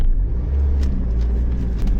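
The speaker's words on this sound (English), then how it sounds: "I'm driving." Steady low engine and tyre rumble from a car driving on a road through France, loud and continuous with faint higher road noise over the top and no talk.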